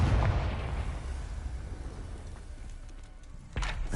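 Confringo, an explosive spell from Hogwarts Legacy, goes off as a loud, low burst that fades into a rumbling tail, and a second sharp blast hits near the end.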